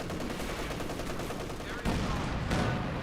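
Machine gun fire in the strategy game Company of Heroes 2, dense continuous crackling bursts with a sharper burst near the end, under a busy battle mix.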